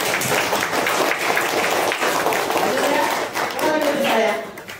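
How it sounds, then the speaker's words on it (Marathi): A class of fifth-grade students in a scholarship exam workshop claps hands together, loud, dense and continuous clapping close by with a few voices mixed in, tapering off at the end. "थोडंसं पहिले टाळ्या वाजवा."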